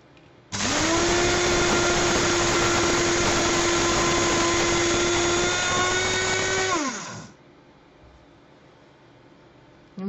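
Lumme LU-2601 electric coffee grinder running on coffee with sugar, a loud steady high-pitched motor whine that starts abruptly, holds for about six seconds, then winds down and stops.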